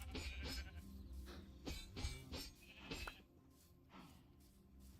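Sheep bleating in the Hytale video game, a run of repeated nasal wavering bleats in quick succession, moderately loud and near, tapering off toward the end.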